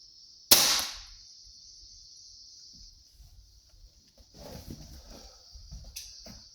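A Centerpoint Dagger 390 crossbow fires at a target 25 yards away, one sharp loud snap followed by a fading ring, then quiet rustling and faint movement.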